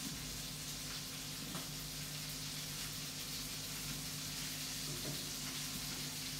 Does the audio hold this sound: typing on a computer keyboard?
no